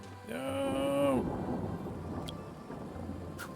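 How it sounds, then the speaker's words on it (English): Thunder and rain from an electrical storm in the video game Two Point Hospital, a rolling rumble with a rising tonal whine at the start, then steady soft rain hiss with faint crackles, moderately quiet. "That electrical storm is pretty annoying in here."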